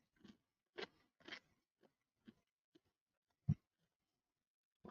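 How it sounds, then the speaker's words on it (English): Crunchy bites of kettle-cooked Lay's potato chips in NFL Cheesy Buffalo Dip flavor, several close, sharp crunches spaced apart and then a final heavier bite, with no talking. "This should have an awesome crunch to it right here."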